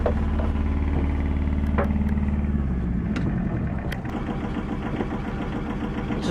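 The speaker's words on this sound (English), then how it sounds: "When the engine's running, take the throttle back." Inboard engine of a Beneteau Oceanis Clipper 323 sailboat running steadily with a loud low hum and vibration, its pitch shifting partway through as the throttle is eased back, with a few clicks over it.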